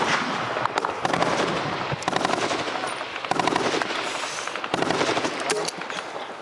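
Sustained automatic gunfire from an M240 machine gun nest during a firefight in Afghanistan, with dense rapid bursts and overlapping cracks continuing loudly and close throughout.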